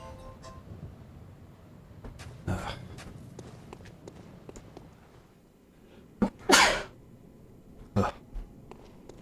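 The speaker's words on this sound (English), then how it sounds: "Alarms make me sneeze." A single sharp sneeze bursts out, loud and close, amid scattered rustling and a few breathy sounds.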